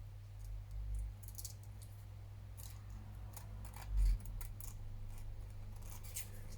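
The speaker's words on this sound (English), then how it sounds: "you can just snip round the end" Scissors snip around the rounded end of a paper photo tag in a quiet series of small, close cuts over a steady low hum.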